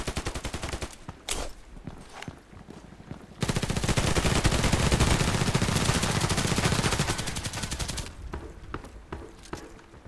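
Gunfire from a Glock pistol in the shooter game Contract Wars: a few sharp shots, then a long dense burst of rapid automatic-style firing lasting several seconds, tapering off into scattered shots.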